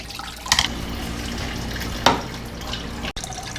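Fluid drains from a 1964 Chevy II with the radiator cap popped off, a steady trickling pour with a couple of sharper splashy bursts, close and alone.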